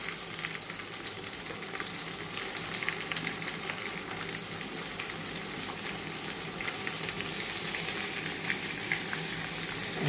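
Tomatoes fry in a pan with chicken biryani spices (curry powder, chili, turmeric and mixed masala), giving a steady, even sizzle and hiss at low level close by, with no talking.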